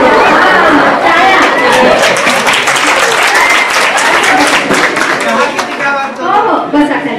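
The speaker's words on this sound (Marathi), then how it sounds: "टाळ्या वाजवल्या" Audience at an Ayurveda lecture on joint pain and spine disorders breaks into sustained loud applause, dense clapping mixed with crowd chatter and voices, tapering slightly toward the end.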